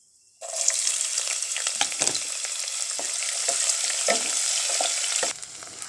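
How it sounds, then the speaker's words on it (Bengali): Chopped onion hits hot oil with an abrupt loud sizzle that holds steadily for about five seconds, crackling and popping throughout, then drops off sharply to a quieter hiss near the end. "এখন আমি পেঁয়াজ কুচিটাকে দিয়ে ভালো করে ভেজে নেবো"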